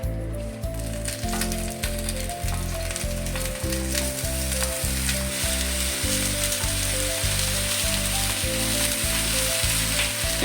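Eggplant slices fry in a freshly oiled pan, a dense, continuous close sizzle and crackle with a faint rhythmic pulsing underneath and no talk.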